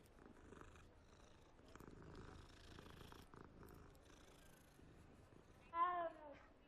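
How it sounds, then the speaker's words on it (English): A cat in the Hogwarts Legacy video game purrs steadily beneath soft game ambience, then gives a short, louder meow near the end. "There's the kitty."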